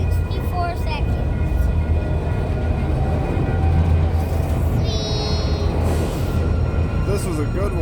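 A long train rolls past close by in a loud, steady rumble, with a brief high tonal squeal partway through and faint voices in the background.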